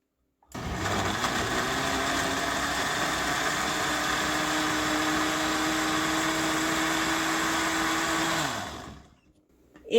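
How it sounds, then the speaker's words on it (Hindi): A blender whirs through peri peri sauce ingredients mixed with water, a loud, steady motor whine lasting about eight seconds before winding down and stopping. "एक बार मैंने ब्लेंडर चलाया है।"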